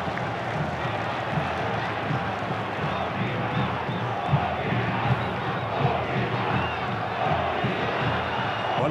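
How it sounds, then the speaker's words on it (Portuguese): A football stadium crowd at a Brazilian league match between Portuguesa and Flamengo chants and roars continuously, a dense, steady mass of voices calling for the player Obina, with faint commentary blended underneath. "a torcida pedindo o Obina"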